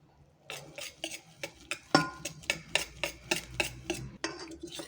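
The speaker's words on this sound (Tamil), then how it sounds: "நாலு கப் பால் விட்டுட்டேன் இது நல்லா கலந்துக்கணும்" Milk is stirred into a sweet powder to make batter, with a utensil knocking and scraping against a bowl in a quick, regular rhythm of close, sharp clinks that run on alone and without a break.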